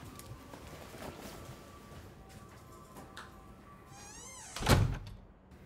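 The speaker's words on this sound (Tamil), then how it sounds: "நான் கதவு மட்டும் சாத்திட்டு வந்துட்டா" A door pulled shut with a single solid thunk near the end, preceded by a short creak or slide and quiet room ambience, fairly close.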